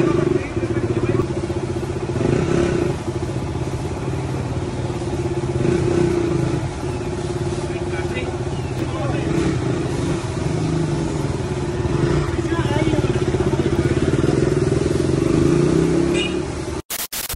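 A KTM RC 200 motorcycle engine runs steadily nearby for the whole stretch, a loud continuous drone with slight swells in pitch, then cuts off abruptly at the very end; no one speaks over it.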